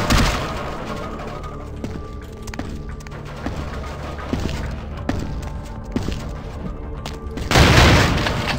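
Several heavy shotgun blasts from Vampire The Masquerade Bloodlines, spaced irregularly over a bed of game ambience, each a sharp thumping boom, with a louder burst of noise near the end.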